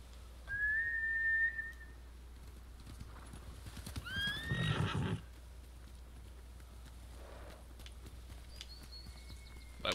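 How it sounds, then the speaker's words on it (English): Horses whinnying with hoof clip-clop in the video game Ghost of Tsushima, a high neigh near the start, a louder burst of hooves and whinnies mid-clip, then a faint whistle-like call over a quiet background. "Bastards scared off the horses."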